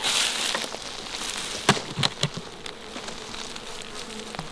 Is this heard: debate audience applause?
no